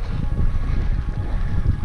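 Strong wind buffeting the microphone by the sailboats at Bayfront Park in Hamilton, Ontario, a loud, continuous low rumble with gusty fluctuations and no voices.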